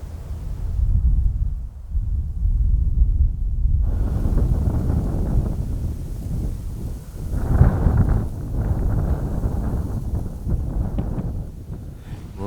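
Strong wind gusting across open Arizona hills, a loud low rumbling buffet on the microphone that swells and eases continuously, with a harder gust partway through.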